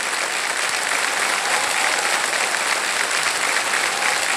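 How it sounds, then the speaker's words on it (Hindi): Steady, dense applause from a studio audience on a TV quiz game show, loud and continuous throughout with no pauses or voices standing out. "और जोरदार तालियां बज जाए इनके।"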